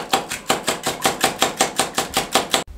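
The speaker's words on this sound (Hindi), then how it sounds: "अंडों को अच्छे तरीके से फेंट लें।" Three eggs beaten in a bowl for a bread omelette, a rapid, even series of crisp strokes about five per second, close and fairly loud, with no talk.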